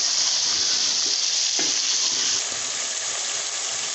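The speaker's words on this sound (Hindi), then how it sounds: "अब इसमें मटर शामिल करेंगे और थोड़ा सा भून के पानी डाल देंगे।" Chicken and peas sizzle and fry steadily in a pan, a dense continuous hiss with a brief stir or clatter partway through, loud and close with no talking.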